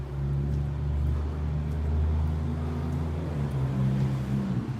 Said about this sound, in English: It's a loud car right there.